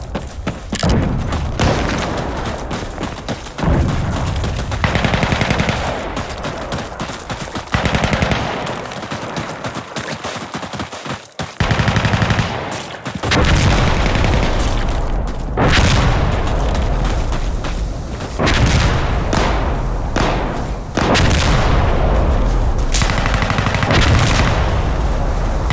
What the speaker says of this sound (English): Explosive artillery incoming.